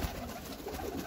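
Soft, low cooing from Sialkoti high-flying pigeons kept on a small rooftop, a brief murmuring call heard alone and fairly close.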